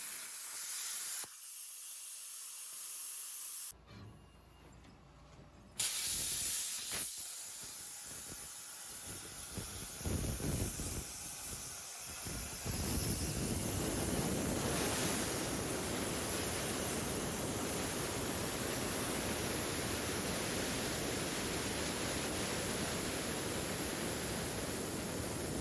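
A Langmuir Crossfire Pro CNC plasma table cutting half-inch steel plate, a loud steady roaring hiss that starts after a few quiet seconds and a sharp click, then builds and holds without pause.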